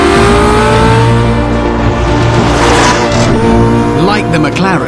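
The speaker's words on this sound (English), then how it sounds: "Like the McLaren, the 918 has a joint strike force of petrol engine and electric motors working together" A Porsche 918 Spyder, a hybrid supercar pairing a petrol engine with electric motors, pulls hard under loud, sustained engine roar that climbs in pitch, with a voice talking over it throughout.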